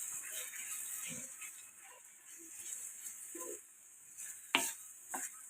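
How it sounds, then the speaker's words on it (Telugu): A spoon stirs chili powder and spices into an onion, fenugreek-leaf and moong dal curry, making soft intermittent scraping strokes with a sizzle underneath and a couple of sharper clinks against the pan near the end. "అంతా కలిపి పెట్టుకుందాం"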